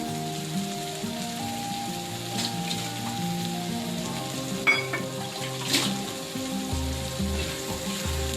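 Bombay duck fish sizzles and fries steadily in a hot pan for a spicy chutney, a dense continuous crackle with a few louder pops and spatters, close and without talk.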